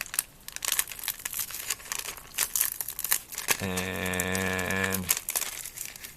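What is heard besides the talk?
opening plastic packaging of a Ninjago magazine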